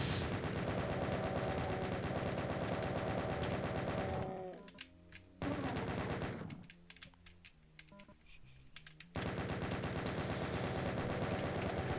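Rapid, continuous automatic fire from chaingunner enemies in Doom, loud and dense, cutting out briefly twice before resuming at full volume.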